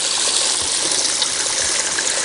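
Water pours down an eight-foot gold sluice box, a loud, even rushing flow heard up close with no voices.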